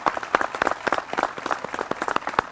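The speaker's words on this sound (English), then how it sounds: "If we could give a round of applause to Colonel Bob Schleiden." A crowd applauds Colonel Bob Schleiden at a Memorial Day service in Richland Township, with dense, steady clapping from many hands that lasts a few seconds.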